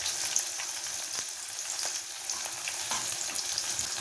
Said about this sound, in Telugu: ఆయిల్ బాగా వేడెక్కిన తర్వాత మనం కట్ చేసుకున్న ఆనియన్ స్లైసెస్ని అందులో వేసేసి ఇట్లా ఒకసారి కలుపుకోవాలి.